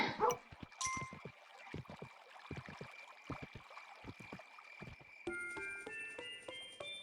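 Dog barking in the game Kingdom New Land, with short yips and bow-wows scattered through the clip over game music and trickling water, fairly faint in the mix.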